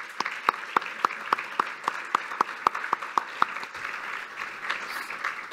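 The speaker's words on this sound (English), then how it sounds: "So big hand of applause for the organizers." A conference audience applauds. Crisp, evenly spaced claps ring out close by over softer background clapping, then thin out and fade after about four seconds.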